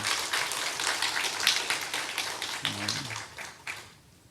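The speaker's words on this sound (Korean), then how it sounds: "우리 성가대를 위해서 한 번 더 박수를 부탁드립니다." A church congregation applauds for the choir during a Sunday service, a burst of clapping that rings out fairly close and then tapers off into quiet near the end, with a brief voice in the middle.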